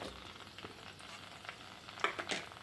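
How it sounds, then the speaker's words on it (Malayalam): Ginger, garlic, onion and sliced tomato sauté in a pan for a pearlspot fish curry, a soft steady sizzle with a couple of louder stirring scrapes toward the end, close up and without talk. "പച്ചമണം മാറുന്നവരെ ഒന്ന് വഴറ്റിയെടുക്കാം."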